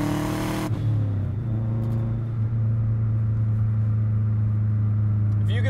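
Subaru Forester STI Type-M engine idling loud and close, opening with a brief sharp rev that drops into a steady, deep low rumble with slight fluctuations.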